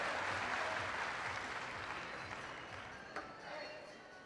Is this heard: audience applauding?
yes